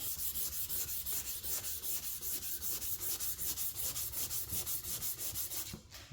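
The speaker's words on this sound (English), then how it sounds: "You see how the sandpaper gets clogged, so wet sanding also helps." Steady back-and-forth strokes of hand sanding over high build primer on a Smart Fortwo body panel, a rhythmic abrasive rasp repeating about three times per second, close and loud, with no talking.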